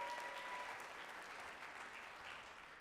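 A concert audience at a high school spring vocal concert applauds a soloist, steady dense clapping that is quite faint and distant throughout, with a brief tonal hum near the start.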